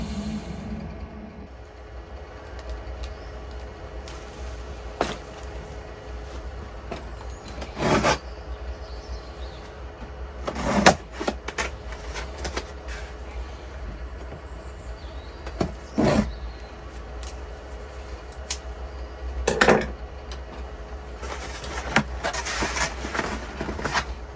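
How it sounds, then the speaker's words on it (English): A Sovol SH02 filament dryer is unpacked from its box, with scattered crinkles, thumps and rustles of packaging and cardboard at irregular intervals over a low steady background hum, and no talking. "let's get this filament dryer unpacked"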